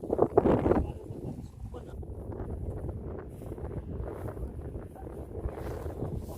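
Wind buffets the microphone in gusty low rumbles on Bayloko Hills in Garcia Hernandez, Bohol, with a burst of louder blowing at the start and soft rustling throughout.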